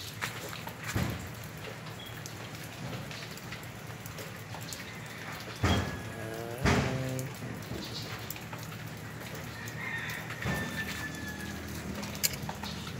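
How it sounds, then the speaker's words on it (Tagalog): Steady rain falling outdoors on a vegetable plot during a harvest, a continuous soft patter with a few louder knocks and handling sounds, fairly close and moderately quiet. "Maulan dito guys, maulan."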